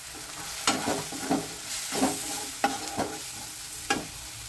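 Ground turmeric, cumin, coriander and Kashmiri chilli powder sizzle in a pan for a mung bean and spinach dish, with several close, distinct scraping stirs over a steady frying hiss.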